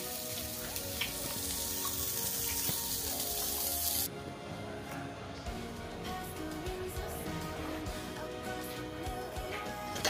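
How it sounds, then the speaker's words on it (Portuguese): Meat roasting on a weekend home churrasco grill gives off a steady, loud, close sizzle and crackle that fills the whole clip, easing slightly partway through, with no voices. "Meu marido tá terminando de assar o churrasco."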